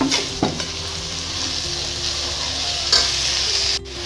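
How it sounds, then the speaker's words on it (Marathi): Finely chopped onion sizzles steadily in hot oil with kasuri methi for dhaba-style whole masoor, a spoon scraping and stirring now and then over the continuous frying hiss. "इथे कांदा चांगला लालसर होईपर्यंत परतून घ्यायचा।"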